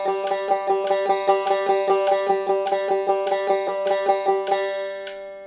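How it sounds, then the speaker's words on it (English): Bluegrass banjo picking a steady run of single-string eighth-note triplets, bright plucked notes in even rapid groups with a faint metronome click under them, ending on a final ringing note. "You could play all triplets, which would sound like this."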